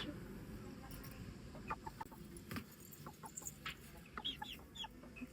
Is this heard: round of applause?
no